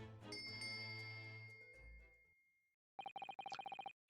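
A bell cord tugged in a cabin in The Great Ace Attorney sets off a quick run of bright, tinkling bell rings near the end, after a fading musical passage and a brief silence.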